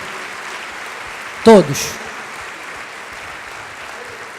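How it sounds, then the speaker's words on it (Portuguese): Church congregation applauding in a steady wash of clapping that runs the whole time, with a brief spoken word cutting through near the middle. "Vamos dar um aplauso a todos que trabalharam"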